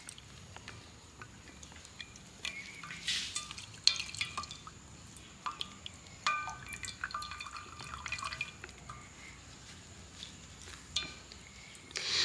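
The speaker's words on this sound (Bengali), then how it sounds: "আলতো হাতে এইভাবে ঘুরি ঘুরি পুরো চিজ থেকে আমি জলটাকে বের করে নেব।" Whey drips and trickles from homemade mozzarella being gently twisted and squeezed by hand, a quiet, irregular patter of small drops and splashes with no voices.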